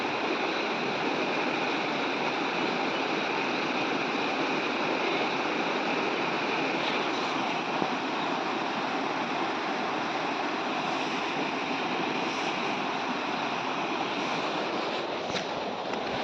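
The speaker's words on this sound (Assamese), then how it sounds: "পাথৰৰ মাজে মাজে পানী আহি আছে, কিমান চাউণ্ড দিছে নাই" Water rushing between rocks, a dense continuous roar that holds steady and loud throughout with no pauses.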